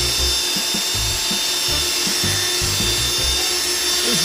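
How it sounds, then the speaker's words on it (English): A power tool spins at high speed to polish a car headlight during restoration, giving a steady loud whir over an uneven low rubbing and thumping, with no talking. "Now we start to give it a little more RPM. Pushing it to high now. Now we're going to give it some polishing."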